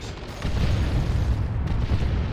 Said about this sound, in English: It's a lot of bombs.